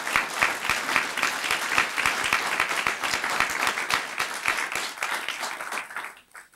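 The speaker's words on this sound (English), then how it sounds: "can we give them a round of applause?" An audience at a county press conference on a regional hospital breaks into steady applause, dense and continuous clapping that holds for several seconds before tapering off at the end.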